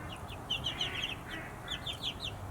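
A domestic duck calls out in a short series of repeated bright notes, in two clusters, over a steady background hum, with no talking.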